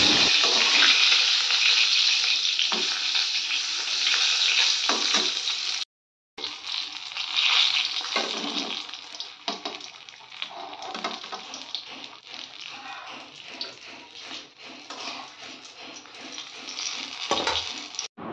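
Eggplant slices frying dry over fairly high heat, a steady loud hiss of oil with crackling spikes that pauses once briefly, no talk.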